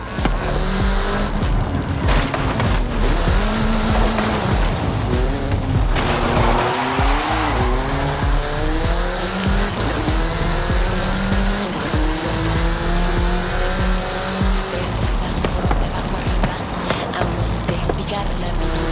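A fast car in the Forza Horizon 5 racing game roars through the Mexican countryside. The engine note climbs and falls constantly, tire squeals and skids cut in and out, and the sound stays loud and continuous throughout.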